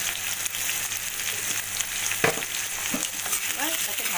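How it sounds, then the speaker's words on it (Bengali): Potatoes frying in hot oil in a pan, a steady close sizzle with a few stirring scrapes and clinks partway through. "আলুগুলো আমি লাল লাল করে ভেজে নিয়েছি"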